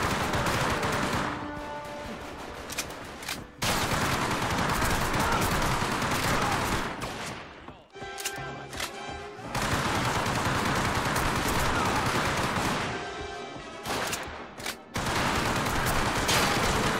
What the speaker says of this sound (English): As soon as that magazine goes in,